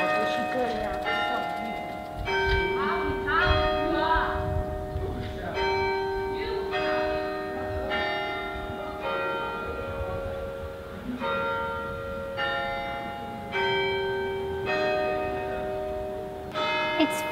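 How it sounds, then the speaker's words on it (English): Church bells in Boston strike three o'clock with a series of evenly spaced, resonant tolls. Each ringing tone overlaps the fading hum of the one before, over low background noise. "Can you hear the bells?"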